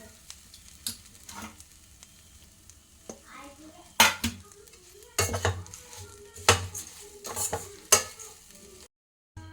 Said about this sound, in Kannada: ಇದನ್ನು ಈ ಥರ ಒಂದ್ಸಲ ತಿರ್ಸ್ಕೊಳ್ಬೇಕು.